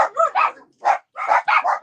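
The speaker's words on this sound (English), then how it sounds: "dogs are going wappy" Several small dogs barking in quick, close, loud bursts of yaps and yips, with brief pauses between volleys.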